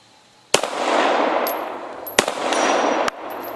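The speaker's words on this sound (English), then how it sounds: "Let's try a couple shots at it." Two sharp CZ 75 pistol shots fired at an outdoor target, spaced well apart, each a loud crack followed by a long ringing echo, with a faint metallic ping of the steel target after each.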